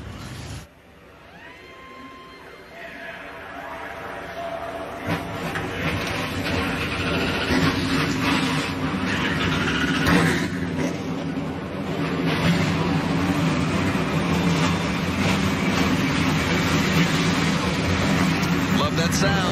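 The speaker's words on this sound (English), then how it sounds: "And now, drivers, start your engines." NASCAR Gander Outdoors Truck Series trucks at Atlanta Motor Speedway start up, their engines rising into a loud sustained roar that keeps building, with crowd and ambient noise behind.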